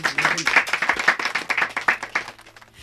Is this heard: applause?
yes